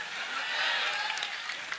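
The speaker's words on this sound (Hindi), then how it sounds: "तालियां बजाओ" An audience claps at a 2024 Samvidhan Bachao Sankalp Sabha political rally in Dhampur, Bijnor, producing dense, steady applause that holds at an even level throughout with no voice over it.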